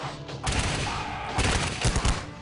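Dense rebel gunfire in battle crackles continuously, with bursts of rapid shots and heavier booming thuds, loud and sustained with overlapping volleys.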